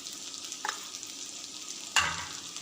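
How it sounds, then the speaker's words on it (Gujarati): Potato and capsicum sabzi cooking in oil with a soft continuous sizzle, marked by two distinct stirring scrapes, a light one early and a louder clatter near the end. "સરસ મિક્સ કરી લઈશું। 2 મિનિટ માટે સરસ અને તેલમાં ચડવીશું"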